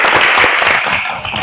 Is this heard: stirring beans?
no